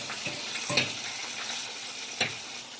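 Pancit noodles frying in a pan, a steady broadband sizzle with a few louder stirring scrapes near the start and around two seconds, close and continuous with no talking.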